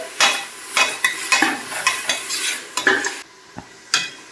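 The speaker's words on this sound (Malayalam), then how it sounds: "കുറച്ച് ഉപ്പുകൂടി ചേർത്തിട്ട് നമുക്കൊന്ന് വഴറ്റി കൊടുക്കാം." A spoon scrapes and stirs beef biryani masala frying in a pan, with rhythmic close strokes over a soft sizzle, then a short pause before one more stir.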